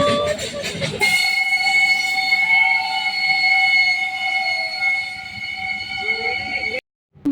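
A small train in Ooty rolls past with a steady loud rumble and sustained whistling tones, ending in a sudden cutoff.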